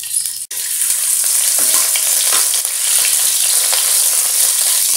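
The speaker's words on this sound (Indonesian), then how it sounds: "Dan kita gorengkan kita punya udang dulu" Prawns frying in hot oil for Banjar fried rice, a steady loud sizzle throughout with small crackles and a brief stir near the start; no talking.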